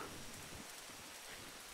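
Steady rain falling in the video game SCUM, a soft continuous patter of drops on surfaces that stays even and fairly quiet throughout, with no voices.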